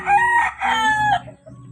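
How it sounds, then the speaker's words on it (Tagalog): Chickens on a farm: a nearby rooster lets out a loud two-part crow with a brief break between phrases, followed by quieter background clucking. "Ito sa aking farm. Mga sisiw."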